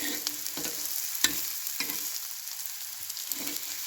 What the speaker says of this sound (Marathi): कांदा आपला लाल होत आलेला आहे मित्रांनो